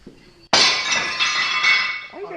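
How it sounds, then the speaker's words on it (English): Glass shatters suddenly and loudly inside an abandoned mall, a sharp crash followed by about two seconds of tinkling, clinking shards settling, with a voice briefly heard at the end. "we heard glass breaking"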